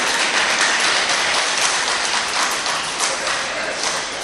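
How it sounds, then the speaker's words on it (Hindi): A crowd at a devotional Hanuman katha gathering claps steadily and densely, a close, sustained wash of applause with a few voices mixed in. "आप बजाइए ताली"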